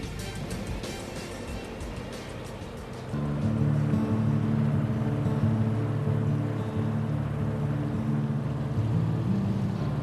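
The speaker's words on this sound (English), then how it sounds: "a chance to try out a boat on a canal" A boat engine chugs steadily along a canal on the Aire and Calder Navigation, a low droning hum that grows louder partway through, over a background wash of water and wind.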